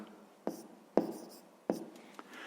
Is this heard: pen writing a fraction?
yes